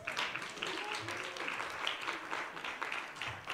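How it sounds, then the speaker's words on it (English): Summit audience gives speakers a round of applause, a fairly faint, uneven clatter of hands in a hall with some chatter mixed in. "may you come in front as we give them a round of applause"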